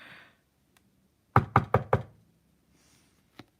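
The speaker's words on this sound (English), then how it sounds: "It was a knock at the door." Four quick, loud knocks in a steady rhythm, as on a door, played back through a phone speaker, followed by a single fainter tap after a pause.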